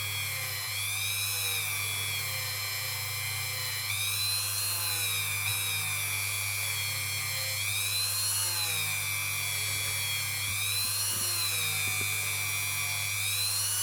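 Rotary tool fitted with quad zero steel wool buffs fire scale off a ring made from a 100 dirham coin, giving a steady high whine that wavers in pitch over a constant low hum.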